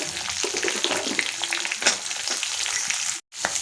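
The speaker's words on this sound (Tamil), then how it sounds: "இதை நல்லா கலந்து விடுங்க. நல்லா கோல்டன் ப்ரௌன் கலர் வெங்காயம் நமக்கு மாறி வரட்டும்." Onions and green chillies fry in hot oil for a Tamil vada curry, a steady close crackling sizzle with a brief stir and one short gap near the end; nobody speaks.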